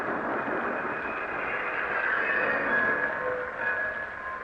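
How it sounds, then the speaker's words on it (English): Steady rumbling train noise with a metallic squeal of wheels or brakes as a train pulls into a station, a continuous close wash of rail sound with no talk. "But finally, we pulled into the station."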